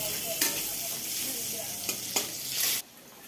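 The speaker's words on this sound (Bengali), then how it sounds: "এই যে এখন করছি পালং শাকের ঘন্ট" Spinach ghonto, a Bengali dish, sizzling and frying in a pan while a utensil stirs it, with a few sharp scraping strokes over the steady sizzle before it suddenly cuts off.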